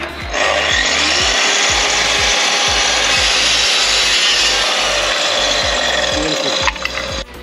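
Wood being cut for a radiator cover with a power saw, a loud, steady rasping drone that runs close and unbroken for several seconds before a few rattles at the end.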